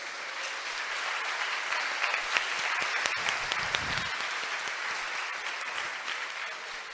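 A church congregation at a Sunday Mass gives a sustained round of loud applause, a dense, steady wash of many hands clapping for several seconds with no voice above it.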